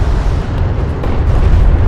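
Strike craft blowing up in the real-time strategy game Homeworld: Deserts of Kharak, a loud, sustained rumbling explosion with dense low-end roar and crackling bursts, no speech.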